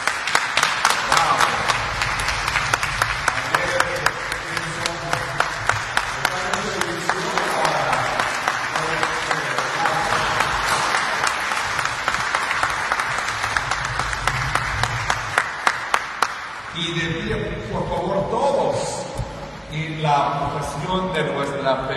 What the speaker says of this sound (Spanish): Ayúdame con un gran aplauso por todo ello.